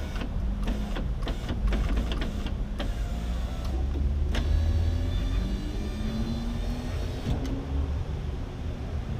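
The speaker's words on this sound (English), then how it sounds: "The window goes up and down." A new window regulator in an 8th-generation Honda Civic Si moves the door window up and down. It makes a steady, close mechanical whir and rumble with rising tones and a few sharp clicks, running throughout without talk.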